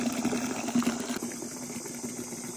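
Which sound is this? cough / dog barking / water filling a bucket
water filling a bucket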